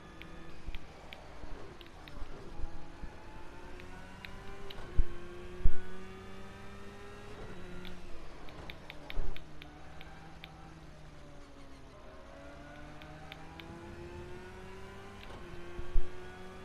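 A Porsche engine in a racing video game revs hard through very short gears, rising and falling in repeated quick sweeps as it shifts, with a few sharper bursts along the way.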